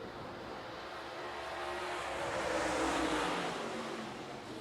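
Super late model race cars in a six-car heat race on a dirt track, heard as a broad, steady engine roar from a distance that swells and fades slightly as the field circles, with no voices.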